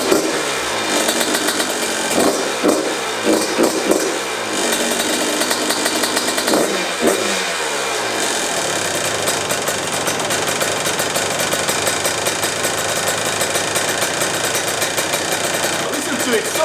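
A rebuilt Yamaha YZ125 two-stroke dirt bike engine running close by, a crisp buzzing idle with a few quick throttle blips early on before it settles into a steady rattly drone.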